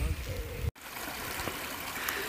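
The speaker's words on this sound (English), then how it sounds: "The river runs down and then disappears" A river stream in the Great Smoky Mountains National Park rushes steadily nearby, a continuous broadband wash of flowing water with a brief cut partway through.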